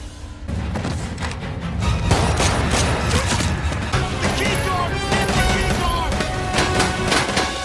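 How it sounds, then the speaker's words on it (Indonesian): Gunfire in a film fight with terrorists at a base: loud, dense volleys of shots, impacts and crashes run continuously under an intense action mix, close and sustained throughout. "Tetapi JJ yang melawan membuat tembakan terbang ke arah Shah dan Beeper."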